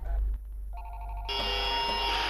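Telephone ringing in a Five Nights at Freddy's fan video game, a clear electronic ring tone that starts after a low rumble and continues loudly with a sustained ringing.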